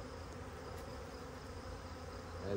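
Honey bees hum in a steady, faint drone while a package colony is being settled into a new hive, the buzzing continuous and even throughout with a slight swell at the very end.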